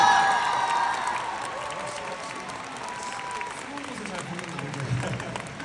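A concert crowd applauds the behind-the-scenes staff at the close of a band's show, a soft, continuous wash of clapping heard at a distance, with lingering musical tones beneath it.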